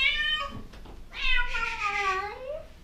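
A skinny cat left behind in an abandoned rental unit gives two loud, drawn-out meows close by. The first is shorter, and the second is long and wavering with a falling end.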